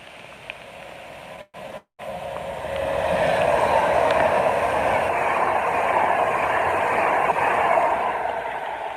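A train, unit 390001, rumbles past steadily through heavy, pouring rain, a broad continuous roar that swells and holds at close range after a brief dropout.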